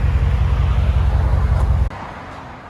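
A 2020 Dodge Ram 5.7L pickup with dual exhaust, resonators and a muffler idles with a loud, steady low rumble that drops off abruptly near the end, leaving a softer background hum.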